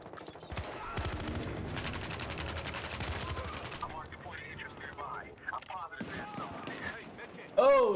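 Gunfire in the multiplayer shooter Battlefield Hardline, with loud repeated rapid bursts and clattering automatic fire across most of the stretch, mixed with other game sounds and someone talking over it.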